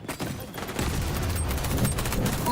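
Gunfire in the multiplayer shooter XDefiant: a sustained burst of rapid shots that thickens after a brief lull, loud and close, with game effects in the mix.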